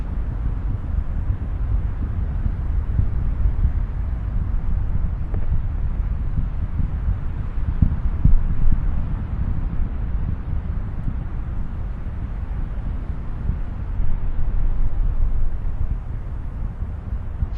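Space Shuttle Atlantis's twin solid rocket boosters burn during its 2009 launch, a steady, heavy low roar with wind-like rumble that holds loud and unbroken throughout, with slight surges but no clear voices.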